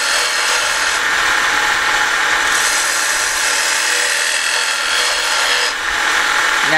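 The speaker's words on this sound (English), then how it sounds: "We are getting nice clean cuts on the end grain." Gouge cutting end grain on a wood lathe during a woodturning lesson, a loud continuous scraping, tearing hiss that runs steadily throughout with brief dips, no talking.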